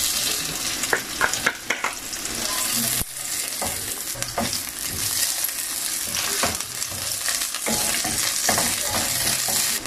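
Ginger and garlic sautéing in hot cooking oil in a pan, a continuous close sizzle broken by stirring scrapes and clinks of a utensil, with no talk.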